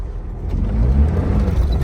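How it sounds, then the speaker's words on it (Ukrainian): A Fiat 1.0 car engine with a Weber 32 carburetor rumbles low and close, swelling briefly as the vehicle pulls away, with no voices. "І поїхала машина зовсім геть без проблем."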